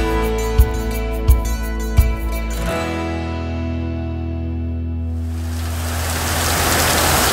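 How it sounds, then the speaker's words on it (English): Heavy rain comes in as a dense, broad hiss that swells and holds steady, after a low hum and a few dull thumps fade out. "Sounds like it has been raining like this for the last several days"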